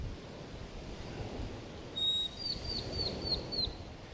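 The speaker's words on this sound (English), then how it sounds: "You hear the birds chirping," A few high, thin bird chirps sound in a quick series over a soft, continuous wash of surf on a beach in Mexico.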